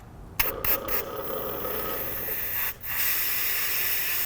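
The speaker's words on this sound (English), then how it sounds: "I'm just gonna run a little bit of compressed air to get the rest of the stuff" Compressed air hisses steadily through transmission cooler lines, a loud broadband blast with a few short stutters at the start and a brief break near the end before resuming.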